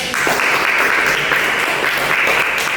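Classroom applause in an Indonesian teaching session, a steady wash of many hands clapping together at close range, sustained evenly for almost three seconds.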